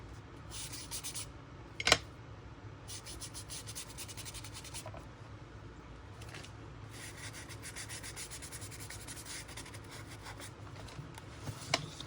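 A tool scrapes across a mixed media art page in a series of close, dry rasping strokes, rhythmic bursts separated by short pauses, with one sharp knock early on.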